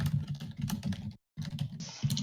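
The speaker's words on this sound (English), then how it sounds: "You sound like you're beating your keyboard like it owes you money." Fast, heavy typing on a computer keyboard, dense clattering keystrokes close to the microphone with a brief pause midway before the pounding resumes.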